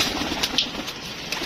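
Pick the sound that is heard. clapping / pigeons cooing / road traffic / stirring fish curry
pigeons cooing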